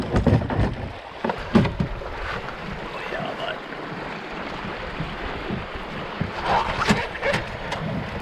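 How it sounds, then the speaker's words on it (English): Strong, gusty wind roars steadily while kayaking on open Saskatchewan water, with waves slapping and paddle splashes mixed into the constant loud rush. "I realized that it was in fact still windy. Very windy."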